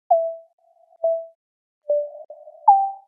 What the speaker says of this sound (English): then finally we have this pluck. And that pluck is pretty simple. The first wavetable is a sine wave.